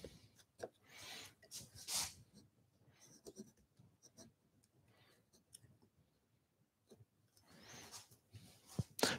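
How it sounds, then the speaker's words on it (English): Flat chisel carving wood on a tree spirit carving, giving soft scraping and paring strokes in irregular bursts, fairly quiet and close, with brief pauses between cuts. "So this is our flat chisel."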